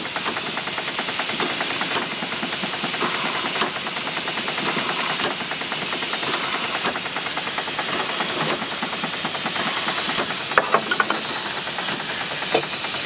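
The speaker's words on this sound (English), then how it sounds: "And now we start the pump. We open the steam valve." A Southworth boiler feed pump on the steam boat Amphora runs on steam after the steam valve is opened: steady loud hissing with a rapid mechanical knocking and rattling throughout, plus a few sharper clanks near the end.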